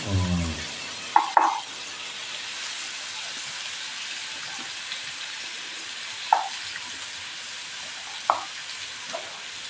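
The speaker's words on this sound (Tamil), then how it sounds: "நார்மலாக பொரிக்கிற மாதிரி." Food sizzles steadily in a hot pan with a continuous hiss, broken by a few clanks of a utensil, close and moderately loud.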